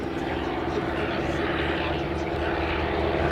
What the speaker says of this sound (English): the second aircraft in this sequence, the 504 Replica, built by Mersac